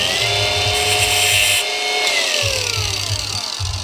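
A grinder bites into a scrap metal piece for a spark test on brass and stainless, giving a high, whining hiss that drops in pitch under load, with short bursts of contact and a low motor hum.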